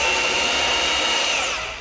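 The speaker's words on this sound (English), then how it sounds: "Grab the bandsaw here, use the old Hey Dude vise. Not gonna take a big piece here, so we'll cut like a 1 inch-ish piece." Bandsaw cutting 1/2 inch square steel tubing clamped in a vise, a loud steady high-pitched whine with a sustained tone, close and alone.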